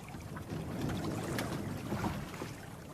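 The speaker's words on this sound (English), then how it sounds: "The skiff boat neared." A small skiff moving on water, with soft splashing and a low rumble under faint wind noise, fairly quiet and steady.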